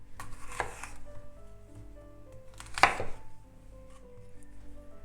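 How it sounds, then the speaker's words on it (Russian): A knife cuts apple quarters into slices on a board with a few soft, separate chops spaced apart, quiet and close, with a faint light clink between them. "Каждую четвертинку яблока нарезаю на дольки."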